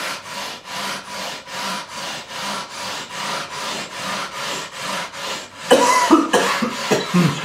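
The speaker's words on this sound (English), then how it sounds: "Excuse me, I do have a cough." Repeated close abrasive scraping strokes of a leveling beam over guitar frets in a steady rhythm, then stopping as a person coughs a few times nearby.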